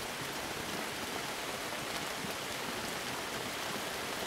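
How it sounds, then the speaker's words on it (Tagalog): Steady rain falls without a break, a dense, even hiss of drops that stays constant and fairly close throughout, with no voices over it. "Umuulan pa naman, bro."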